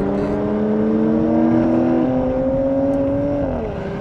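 A Porsche Macan GTS with a 7-speed PDK gearbox accelerates hard at full throttle in second gear. The engine note rises steadily in a loud, continuous roar and eases slightly near the end, with no voices.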